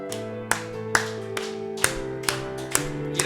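A church congregation claps in steady rhythm during a Wednesday worship hymn, sharp regular claps over sustained organ or keyboard chords.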